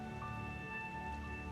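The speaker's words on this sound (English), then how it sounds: "It sure rains in this town a lot" Steady rain falls in the SimCity city-building game, a dense, even patter that runs the whole time at a constant level, with faint sustained tones holding underneath.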